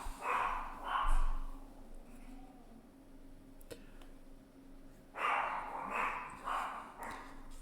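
Dogs bark in the background of a home office, two bursts of barking near the start and another cluster later, moderately loud and somewhat distant, with quieter room noise in between.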